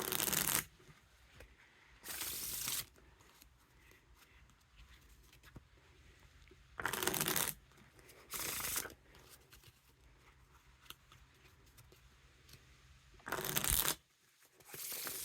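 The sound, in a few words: riffle shuffling playing cards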